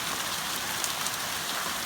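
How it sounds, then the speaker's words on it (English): Hail patters on a homestead roof during a thunderstorm, a dense steady rattle of small impacts with a few sharper taps standing out. "it's hailing right now up at the homestead."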